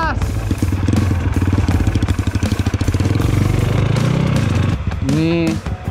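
A motorcycle ridden slowly, its engine thumping loud and close in a rapid, even putter. Near the end it drops off and a short rising tone is heard.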